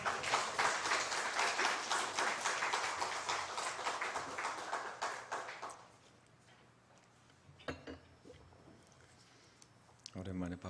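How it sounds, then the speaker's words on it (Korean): A church congregation claps loudly during a Sunday afternoon staff dedication worship service. The applause is full and sustained for several seconds, then drops off into a quiet room broken by a few scattered taps and thumps. "박수 좀 큰 박수 부탁합니다."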